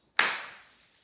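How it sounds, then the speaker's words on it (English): A single sharp hand clap made with the hands raised above the head during a tai chi qigong routine, followed by a soft brushing rub of the palms that fades away. "I'm going to clap my hands above my head and just rub them together."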